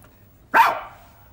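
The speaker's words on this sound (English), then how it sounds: "Ah, the obligatory dog." A single sampled dog bark triggered from a Simmons electronic drum kit, one sharp clear yelp that rings briefly and fades over a quiet background.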